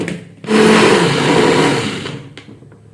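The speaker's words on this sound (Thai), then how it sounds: "พอดีเครื่องปั่นเนี้มันก็เริ่มจะไม่ค่อยโอเคเท่าไหร่แล้วเริ่มเจ๊ง" A failing electric blender at home whirs continuously while blending a drink, loud and steady for most of the span before tapering off, with no talk over it.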